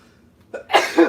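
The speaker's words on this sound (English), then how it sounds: "People love when you sneeze in their food." A single close, loud sneeze bursts out in two quick parts during a home cooking session, alone without talk.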